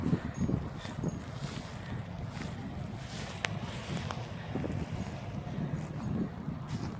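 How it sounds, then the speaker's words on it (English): Steady wind buffets the microphone, a low rumbling roar that stays continuous and fairly loud throughout, with no talking. "Woo, windy, windy."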